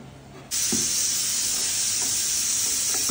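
Amul butter ghee poured into a hot biryani pot bursts into a loud, steady sizzle and hiss that starts abruptly and holds close and continuous.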